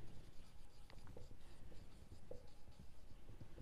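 Chalk or marker writing on a board during an accountancy lesson, soft scratchy strokes in short bursts, faint and close, with no talk.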